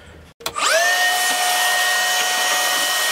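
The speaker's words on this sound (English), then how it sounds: "So let me vacuum this up," A Makita 18 volt cordless vacuum clicks on and whirs up quickly to a steady, loud, high-pitched whine, running close by on a woodworking job without any talking.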